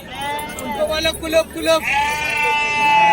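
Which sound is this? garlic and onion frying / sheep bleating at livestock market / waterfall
sheep bleating at livestock market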